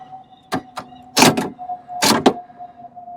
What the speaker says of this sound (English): when I push lock and unlock on my key fob, we could see that the whole motor, the whole unit, just flops around